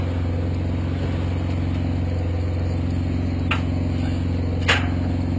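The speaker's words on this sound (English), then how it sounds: "It's just a mud flap dragging on the decking," A mud flap drags along the metal decking of an auto transport truck, making two brief scraping rasps over the steady low hum of the truck's running engine.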